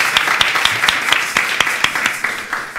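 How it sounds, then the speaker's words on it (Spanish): A church congregation claps in a steady, fairly loud rhythm, sharp individual claps standing out over a wash of hands throughout the short stretch. "Dame un aplauso al Señor por su vida"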